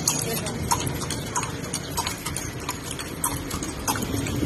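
Horse hooves clip-clop in a steady, fairly close rhythm as a kalesa carriage is pulled through the streets of Manila, Philippines, with traffic and city noise around it.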